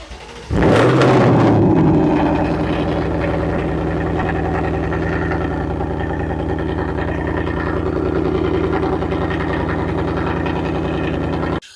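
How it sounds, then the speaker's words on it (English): A 2024 Mustang GT fitted with an MBRP X-Pipe exhaust cold-starts with a sharp cranking bark, then settles into a loud, steady, rumbling high idle that runs on unchanged until it cuts off abruptly. "here's an MBRP X-Pipe cold start"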